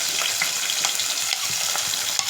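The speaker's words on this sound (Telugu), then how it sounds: "ఇవి కొంచెం ఫ్రై అవుతున్నాయి కదా" Green peas frying in a pan for street-style chaat, a steady close sizzle with soft stirring scrapes and small pops running throughout, no voices.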